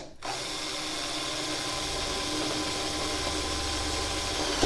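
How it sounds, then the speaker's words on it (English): Power drill with an 11/64 bit drilling pilot holes for hood hinge braces on a Chevy C10, whirring steadily at close range after a brief quiet start, running continuously without pause. "drill our pilot holes, which are 11/64 drill bit"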